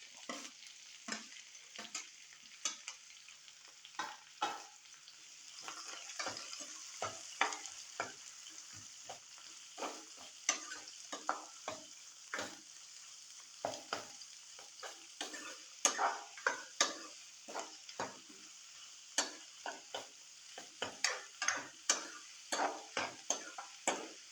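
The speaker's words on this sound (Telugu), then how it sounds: "ఆయిల్ వేసుకున్నాం కదా, దీంట్లో ఆనియన్స్ వేసుకుందాం." Onions frying in oil for a chicken curry, with a constant bright sizzle running throughout and a dense series of quick, close spatula taps and scrapes against the pan.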